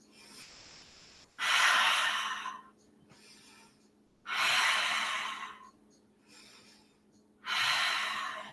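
Heavy, audible breaths during a yoga pose in a studio class come in three strong, drawn-out bursts about three seconds apart, with quiet pauses between them.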